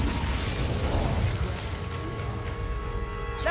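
The Incendio fire spell being cast in Hogwarts Legacy: a loud, dense whooshing burst of flame that roars at once and slowly thins out over a few seconds, with no voices.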